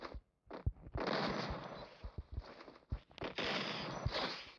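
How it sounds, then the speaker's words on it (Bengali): A shotgun headshot in the mobile battle game Free Fire, heard as sharp gunshot bursts over a dense, loud game soundscape with several quick impacts through the stretch. "চলো এটা দিয়ে তাকে একটা হেডশট মেরে দিয়েছি"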